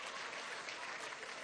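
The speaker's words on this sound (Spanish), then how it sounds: "Un aplauso a Petare" A crowd at a Gran Misión Chamba Juvenil rally with President Nicolás Maduro applauds Petare, a faint, distant, continuous wash of many hands clapping.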